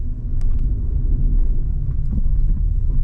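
A workers' vehicle passes on the Malshej Ghat mountain road, a loud, steady low engine and tyre rumble holding close throughout with no talk.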